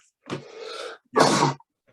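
Two loud, close sneezes in a quiet room during a digital marketing podcast interview, the first breathy, the second sharper, with a brief pause between them.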